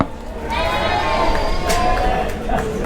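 Several lambs bleat in a barn at a livestock market, with wavering calls overlapping each other above a constant low background rumble.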